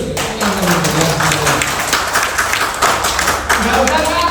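An audience claps enthusiastically during a talk by an anesthesiology specialist doctor, a scattered patter of hands beneath a voice that continues speaking loudly over it.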